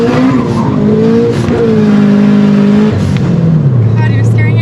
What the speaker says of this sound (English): Burnt the clutch instead of the tires.